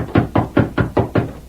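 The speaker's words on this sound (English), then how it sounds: "a rap on the door brought a quick response" Six firm, evenly spaced raps on a wooden door ring out loud and close, a radio drama sound effect with no voices over it.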